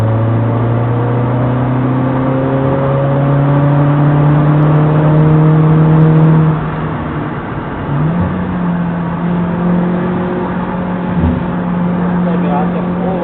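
A car accelerates around the Brands Hatch Indy race circuit, heard from the cockpit as steady rising engine tones, a gear change midway, then climbing again, with a driver talking over it.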